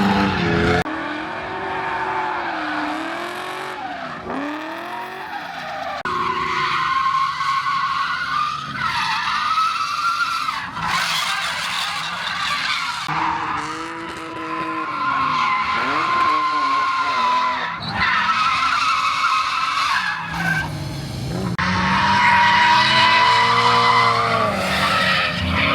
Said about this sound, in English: Let's check out some night drifting,